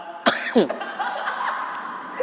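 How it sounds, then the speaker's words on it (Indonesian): Two sharp, close coughs in quick succession, followed by a low murmur of voices in the background. "Mau batuk nggak nahan"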